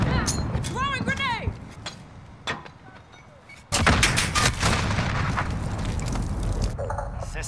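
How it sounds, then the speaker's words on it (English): A grenade bursts in a military shooter video game: a sudden loud, close blast cuts in partway through and rolls into a sustained, heavy rumble with scattered crackling debris, following quieter chatter and radio-like chirps. "Throwing grenade."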